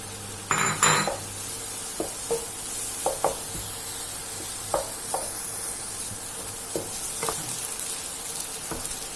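Garlic fried rice with carrot is stir-fried in a pan: a soft sizzle runs underneath while a spatula scrapes and knocks against the metal in irregular strokes, close up with no talking.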